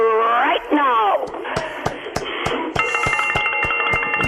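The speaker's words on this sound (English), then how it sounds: "where I will ring my bell right now" A bell rung by the Oshun river during Nichiren Shoshu Lotus Sutra chanting, a series of clear sharp strikes with ringing tones sustaining after, following a voice at the start.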